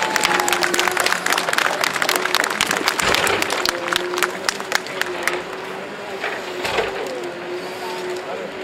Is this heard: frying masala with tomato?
no